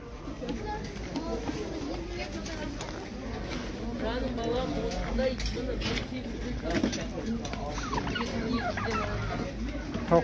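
Chickens, roosters and turkeys cluck and call at the Shymkent poultry market, a busy overlapping chorus heard under people talking and bargaining nearby.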